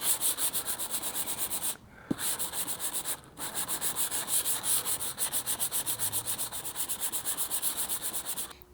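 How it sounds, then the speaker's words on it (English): A long DuraBlock with Velcro-backed 320 grit sandpaper is pushed across primer around a low spot on a car panel, giving a close, steady rhythmic rasp of quick back-and-forth strokes with two short pauses. "So what we're doing is we're sanding down the primer around that low spot until we level it out."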